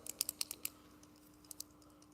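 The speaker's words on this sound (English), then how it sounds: "I'm hearing the clicking." Quiet, crisp clicking in a rapid run of about six clicks, a pause, then two more, with a low steady hum underneath.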